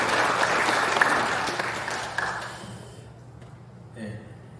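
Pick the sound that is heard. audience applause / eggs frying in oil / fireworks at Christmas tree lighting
audience applause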